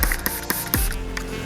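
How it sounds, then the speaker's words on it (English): Several quick, close spray bursts of alcohol onto a towel, each one a short hiss, come in an uneven rhythm. "I'm going to spray it in my towel instead of spraying it over the surface"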